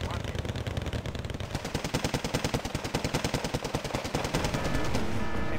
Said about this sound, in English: The machine guns will just tear them to pieces.